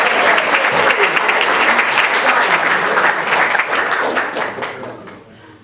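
Audience at a school board business meeting applauds loudly and steadily for an honoree after the name is called, the dense clapping holding for several seconds before thinning and fading out at the end.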